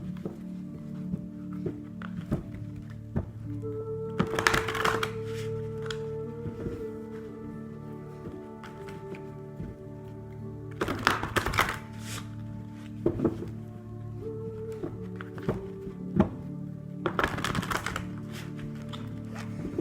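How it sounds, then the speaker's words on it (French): Tarot cards being shuffled in bursts of quick riffling and soft slaps, three main flurries spaced several seconds apart, near and fairly quiet over a low steady hum. "Je mélange les cartes avec toi."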